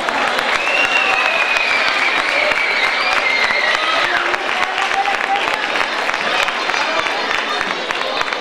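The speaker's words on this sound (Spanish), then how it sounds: "un fuerte aplauso para él" Loud, sustained audience applause at an award ceremony of a cancer-support association, steady dense clapping with crowd noise and a few cheers throughout.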